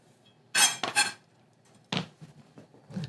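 Chopped greens for Persian kuku tipped into a pan, giving a few clattering, clinking bursts of metal cookware, a pair close together and then scattered, softer knocks, near and with no talk.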